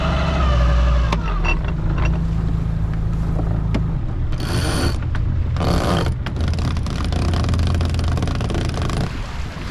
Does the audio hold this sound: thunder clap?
no